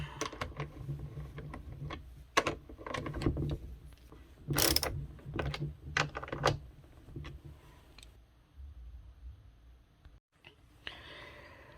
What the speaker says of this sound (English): Get your ratchet.